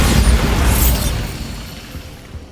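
A Bombarda explosion spell in the video game Hogwarts Legacy bursts with a loud, close boom, then a rumbling decay fades over the next two seconds.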